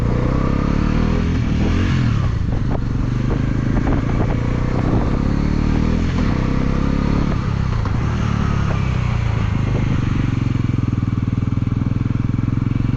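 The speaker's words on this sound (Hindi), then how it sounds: "मेरी बाइक इतना ज़्यादा स्ट्रगल कर रही है ना यहाँ पे" A motorcycle labours up a rough mountain road between Keylong and Baralacha La Pass, its engine droning loudly and continuously with rattling and scraping from the rough surface throughout.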